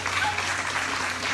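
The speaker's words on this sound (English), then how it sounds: "So we give her a round of applause one more time for that." A church congregation gives a round of applause, a dense, even wash of many hands clapping at moderate loudness from across the room, steady for over a second with no voices.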